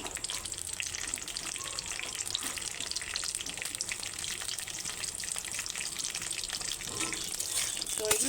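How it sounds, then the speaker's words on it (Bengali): Onions fry in lightly heated oil as a steady, bright sizzle that crackles evenly throughout, close and moderately loud, with no voices. "তো তেলটা হালকা গরম হয়ে এসছে, এই সময় আমি পেঁয়াজগুলো দিয়ে দেবো।"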